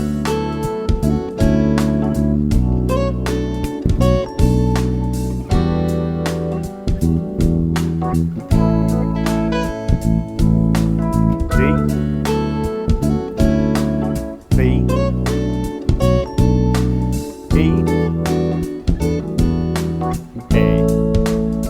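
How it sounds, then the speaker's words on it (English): Bass guitar runs a 1-6-2-5 progression in D over a light, jazzy sixteenth-note shuffle backing track, steady plucked notes with a busy drum groove filling the whole stretch, loud and continuous with no talking. "we're going to have a fairly light, jazzy 16th note shuffle feel, which with the backing track will sound like this."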